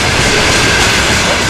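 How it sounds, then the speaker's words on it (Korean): A 1937 deportation transport train arriving at Ushtobe station in Kazakhstan after a forty-day journey roars loudly and steadily, with a dense rumbling clatter of rolling railcars close by. "혹독한 40일을 달리던 비극의 강제 이주 수송열차가 우슈토베역에 멈췄다."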